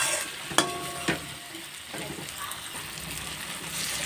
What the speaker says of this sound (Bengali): সামান্য পরিমাণ জল দিয়ে দিলাম